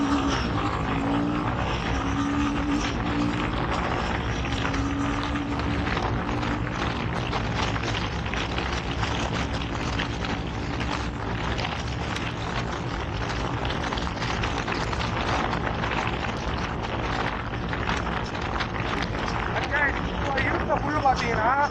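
A 2024 Royal Enfield Himalayan 450 motorcycle runs at full throttle on a highway. A steady, loud engine roar is mixed with rushing wind noise throughout, and a rider talks over it.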